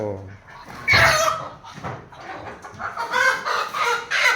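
A chicken clucks and squawks close by, with a few short bursts of fowl calls over a noisy farmyard background.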